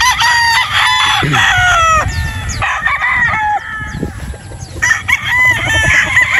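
Gamefowl broodstags from a new harvest crow loudly and repeatedly at close range, several roosters overlapping, with clucking between the calls.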